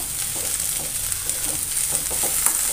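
Chopped spring onion greens being mixed with freshly grated wet coconut in a hot pan, giving a steady, loud sizzle with faint stirring scrapes close up, no voices.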